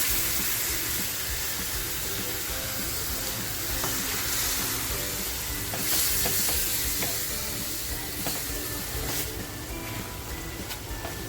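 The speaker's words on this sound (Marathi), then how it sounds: "लगेचच बघा टॅमॅटोची प्युरी केली आहे ती टाकते" Tomato puree hitting hot masala in a pan for dhaba-style tandoori chicken tikka masala, giving a loud, steady sizzle and hiss with scraping stirring sounds close by throughout.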